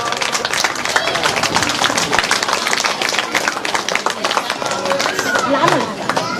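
Applause from a crowd, a dense patter of many hands clapping that continues throughout with voices mixed in.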